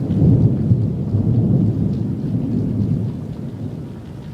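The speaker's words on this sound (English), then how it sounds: "most of what you can hear is just wind and rain" Heavy monsoon rain and wind blowing steadily during a lightning storm, a deep rumbling roar that eases off slightly over a few seconds, no talking.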